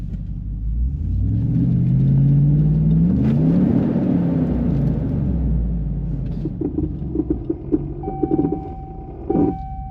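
Off-road vehicle in four-wheel drive high, first gear, rear locker on and sway bar off, its engine rumbling and rising in a loud rev close by, then easing off amid clunks and scrapes on rough Alaskan terrain.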